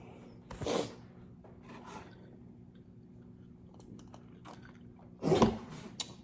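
A sharp, breathy sneeze bursts out near the end, after a softer puff of noise earlier, in an otherwise quiet room.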